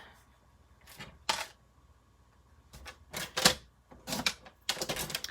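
A paper trimmer slicing through paper with several short, sharp cutting strokes and clacks of the arm, close and fairly loud, separated by brief quiet gaps.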